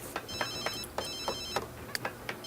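A telephone in The Sims 3 rings with a repeated electronic trill, several short bursts in a steady rhythm, moderately quiet and heard on its own.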